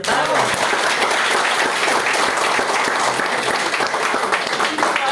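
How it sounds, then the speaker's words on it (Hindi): Loud, steady clapping from an indoor audience just before a lucky draw is opened, many hands applauding together with faint voices mixed into the noise. "और ताली होना चाहिए।"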